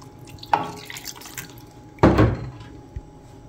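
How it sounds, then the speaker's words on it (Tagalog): Water poured into a cooking pot for fish, arriving in two short splashy bursts with a small drip between and a faint drop after, close and clear with no talking. "At lalagyan ko siya ng 1/2 cup na tubig."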